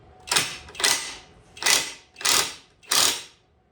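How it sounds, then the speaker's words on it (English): Impact wrench driving a lubed ball joint press during spring bushing and wheel stud work on a 1969 Dodge Charger, firing five separate short hammering bursts in a steady rhythm, loud and close, with no talk. "I know some people say don't use an impact on your ball joint press. Well, I'm going to."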